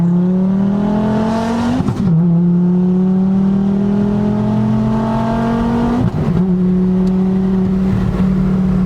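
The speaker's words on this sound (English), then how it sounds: "Let's see if this thing will spin. First gear." Volvo V70R accelerating hard in first gear with wheels spinning, a loud, near engine note climbing steadily in pitch, dropping briefly at each shift-like break around two and six seconds, tire noise layered underneath and no talk.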